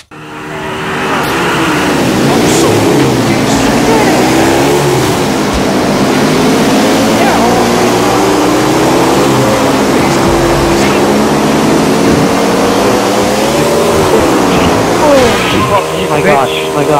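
Several motorcycle engines roar and rev in a video game bike pile-up, pitch rising and falling continuously for the whole stretch, loud and close, while people talk over them.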